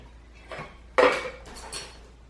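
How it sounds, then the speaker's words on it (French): A kitchen pot lid struck with a spoon as a percussion instrument, giving a soft tap and then a louder metallic clang that rings and fades, followed by another lighter strike. "un instrument de la cuisine, par exemple avec le couvercle d'un chaudron et puis une cuillère"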